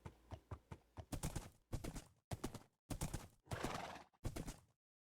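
Close horse hooves clip-clop in a quick run of steps, followed by several loud whinnies and snorts with short pauses between.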